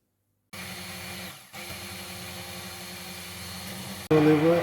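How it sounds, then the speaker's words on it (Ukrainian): A blender whips milk and sugar for homemade chocolate spread, a steady high motor whine that dips briefly, then resumes and jumps louder and harsher near the end as the speed rises. "І збиваємо блендером."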